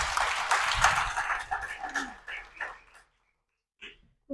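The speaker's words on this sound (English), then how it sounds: "Let's give him a round of applause." An audience applauds a swimmer at a Special Olympics sport event, a dense burst of clapping and crowd noise for about three seconds that thins out and then stops, followed by a short faint sound.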